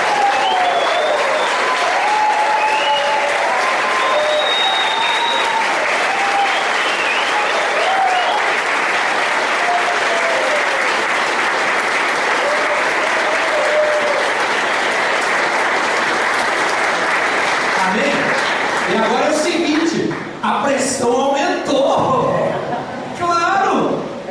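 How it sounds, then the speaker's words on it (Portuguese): Sustained loud applause from a large crowd, steady clapping that fades near the end as voices break through. "nós vamos aplaudir vocês pela resposta de vocês"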